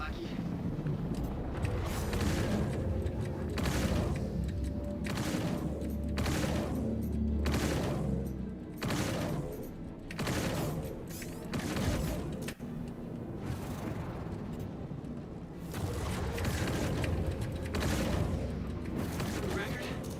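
Ship guns firing in the space game Star Citizen, a dense run of booming bursts that rattles on almost without pause, loud and close, with talk over it at times.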